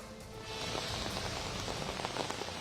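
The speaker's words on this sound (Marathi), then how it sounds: "आज पुण्यात पुन्हा एकदा अवकाळी पाऊस पडू लागलाय" Unseasonal rain in Pune starts softly and quickly becomes a steady, close patter of drops on hard surfaces, with no talking.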